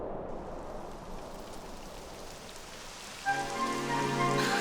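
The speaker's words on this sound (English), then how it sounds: "It would have to go and start raining, wouldn't it?" Rain falling in the video game Dragon Quest XI, a steady dense patter on surfaces, joined near the end by a sustained musical tone over the rain.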